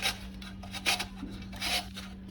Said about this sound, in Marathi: आता आपण कैरी किसून घेऊया।